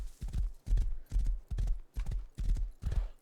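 Horse hooves galloping in the survival video game Rust, a steady clip-clop of about seven strong, loud thudding strides in even rhythm, close and alone.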